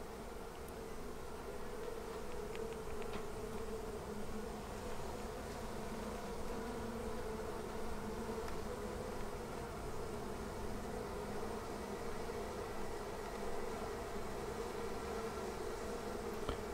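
Honey bees swarming out of an observation hive make a dense, steady buzzing drone that fills the whole stretch, close and continuous with no voices.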